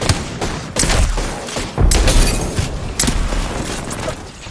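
A grenade and a rapid fusillade of gunfire boom in an Apex Legends match, with several loud sharp blasts and thuds in quick succession.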